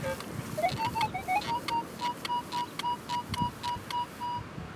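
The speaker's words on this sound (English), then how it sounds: "this is one of the best signals you can get on the E-Trac" Metal detector tones from a Minelab E-Trac sweeping over a buried target: a rising warble followed by a regular series of short, clear beeps at a steady pitch, with wind noise behind them.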